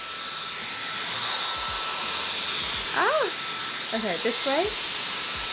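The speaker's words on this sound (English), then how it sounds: "I'm gonna have it on the heat instead of the power" A Revolution hair wrap styler runs on its heat setting, giving a steady blowing hiss throughout while people talk over it in short bursts.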